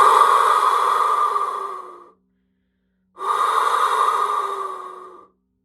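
Two slow, deep breaths are drawn in a quiet shamanic healing setting, each a long airy rush of about two seconds, close to the microphone, separated by a second of silence.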